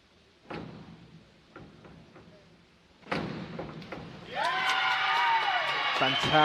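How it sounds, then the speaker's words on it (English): A crowd at a women's 1m diving final erupts into loud whooping cheers that swell and hold near the end, following scattered claps, knocks and a sharp bang earlier in a reverberant venue. "You can hear loud cheering from the crowd."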